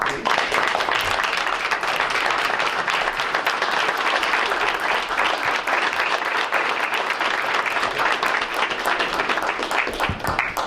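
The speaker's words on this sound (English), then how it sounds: "we're going to give you a round of applause too" Sustained audience applause at a school board meeting, honoring parents and family members standing in the room; dense, steady clapping from a large crowd lasting throughout, with faint murmurs underneath.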